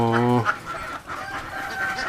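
Chickens at a duck farm raising about 700 Khaki Campbell laying ducks give a brief loud, drawn-out call, then softer clucking and muffled farmyard sounds continue close by.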